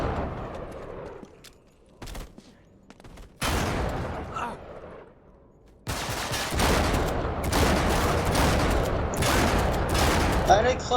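Bursts of gunfire in the PlayStation 4 remaster of the video game Uncharted 3, loud volleys and rapid shots coming in clusters with short quiet gaps, heaviest and most continuous in the second half, with a voice talking at moments.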